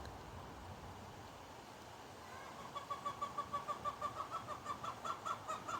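Chickens squawk outdoors at some distance, starting faintly and rising into a quick, rhythmic run of repeated cackling calls over the second half, with soft background noise throughout.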